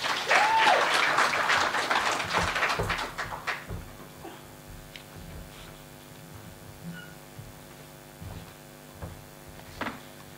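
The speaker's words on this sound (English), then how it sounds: "Can we give him a round of applause?" Conference audience at a South African public service union's inaugural gathering bursts into loud, dense applause that tapers off after about four seconds, leaving a quiet hall with low hum and a few faint knocks.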